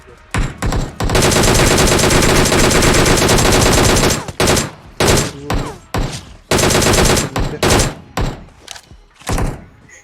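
Rapid automatic gunfire in the PUBG battle royale game, a long sustained burst of loud shots followed by several shorter bursts and single cracks, close and dominant with no talk over it.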